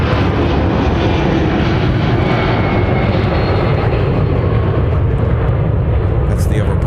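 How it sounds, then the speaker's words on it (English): A Boeing 757-300 takes off from Minneapolis–Saint Paul airport, its engines a loud, continuous roar that fills the whole stretch without fading. "The ever popular Boeing 757 300 aircraft that just launched out of the Twin Cities."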